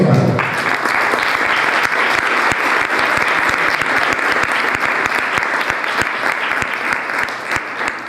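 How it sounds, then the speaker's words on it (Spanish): Loud, sustained applause from a large crowd, dense clapping that swells in quickly and continues steadily throughout. "Le pido un aplauso para los colegas."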